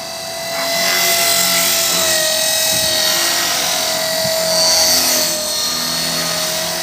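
A small 450-size radio-controlled helicopter whines steadily with a high, buzzing motor pitch that rises and falls slightly as it is thrown around in flight nearby.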